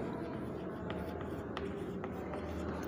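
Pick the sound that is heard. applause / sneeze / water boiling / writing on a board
writing on a board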